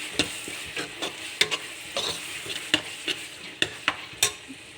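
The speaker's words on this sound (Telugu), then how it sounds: "మసాలాలు, కారం, సాల్ట్ అన్నీ బాగా ఫ్రై అయిన తర్వాత, ఫుల్ ఫ్రై అయిన తర్వాత" Chili powder, masala spices and salt frying in a pan for a fish curry, with a steady sizzle broken by a rhythmic series of clicks and scrapes as a spoon stirs them.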